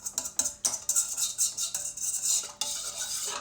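Warm water and bread dough being stirred by hand in a bowl for a rustic loaf, with close clinks and scrapes of a utensil against the bowl in an irregular rhythm, no talking.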